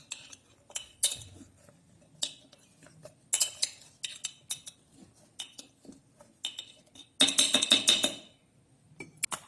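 A spoon clinks and scrapes inside a jar as chilli pickle made from fresh garden chillies is mixed, with scattered close metallic taps, short pauses, and a louder rapid burst of clinking near the end.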